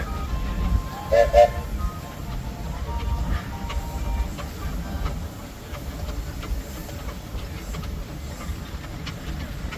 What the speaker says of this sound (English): Next we have a power roller